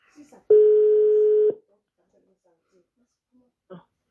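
A phone call rings out with a single steady electronic tone lasting about a second, clear and close, followed by near silence.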